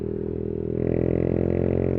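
A Yamaha YBR 125cc motorcycle fitted with a Leo Vince GP Corsa exhaust rides through rush-hour traffic, its engine droning steadily and loud up close, rising slightly midway with no talk over it.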